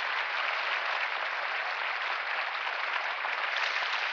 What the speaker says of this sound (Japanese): ほとんどぎっしり超満員のこのスタンドから大きな拍手をもらった